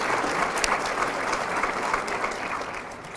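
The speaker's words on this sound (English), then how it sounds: "So give yourselves a big round of applause." Dense, steady applause from an audience at a mayor's news conference in Albuquerque, many hands clapping continuously at close range with a faint crowd murmur and no break.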